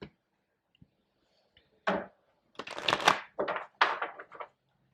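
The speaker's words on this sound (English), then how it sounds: "Tune in with me again while I'm shuffling." Tarot cards being shuffled for a zodiac reading: a few soft taps, then a run of crisp riffling bursts in quick clusters, close and fairly quiet, with no talking.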